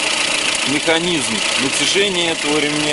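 A Datsun on-DO's ordinary eight-valve engine idles steadily in the background, a low continuous hum running beneath a man's nearby speech for the whole stretch.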